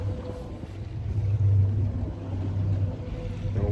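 A fishing boat trolling slowly for spring king salmon on Lake Michigan, its steady low engine drone running throughout with wind buffeting the microphone and water noise, no voices.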